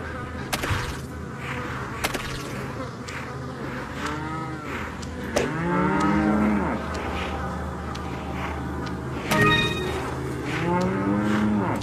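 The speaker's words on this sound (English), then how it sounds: "if these cows don't shut up" Cattle mooing repeatedly in the Resident Evil 4 VR video game, several loud drawn-out moos from nearby animals over a steady background ambience, with sharp whip-like cracks in between.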